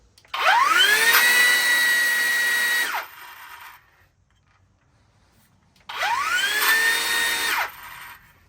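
An angle grinder whines up to full speed and cuts through a sheet of plywood for a few seconds, spins down, then makes a second shorter cut nearby.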